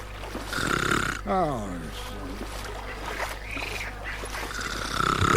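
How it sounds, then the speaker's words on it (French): A character snores in the video game Call of Juarez Gunslinger, giving a few rasping, rattling breaths close by over low game ambience, with brief talk nearby. "C'est qui ronfle?"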